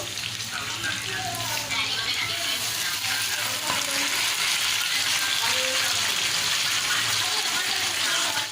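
Chicken meat frying with tomato in a pan, giving a steady, loud sizzle and crackle that runs the whole time, with faint stirring and occasional soft voices underneath.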